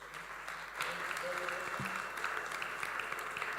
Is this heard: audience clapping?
yes